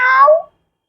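A human voice imitates a cat's meow, a single short nasal mew that fades out quickly, followed by silence.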